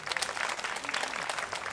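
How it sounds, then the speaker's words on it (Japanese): Audience applause following a jazz orchestra's solo, a short steady burst of clapping from a crowd filling the whole clip. "拍手がもらえました。"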